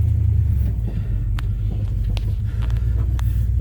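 A 1976 Chrysler Newport engine runs on its first start in eight years, a steady close low rumble with a few sharp ticks and knocks on top, loud and continuous throughout.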